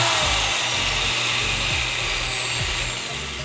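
A drill runs continuously while brass bushings are being made, a steady loud whirring hum with a few low shifts in pitch as the bit works the brass, with no talking.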